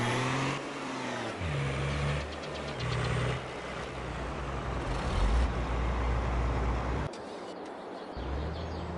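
A truck in Farming Simulator 22 drives steadily, its engine droning loud and close with several shifts in pitch as it speeds up and changes gear, plus a brief lower rumble near the end.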